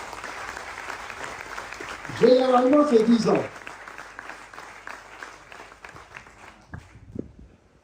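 An audience at an outdoor foundation-stone ceremony for housing claps steadily in a diffuse wash under a man's speech, with a short musical or vocal swell midway.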